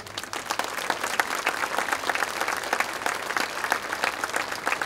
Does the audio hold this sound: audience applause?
yes